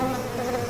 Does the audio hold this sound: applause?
no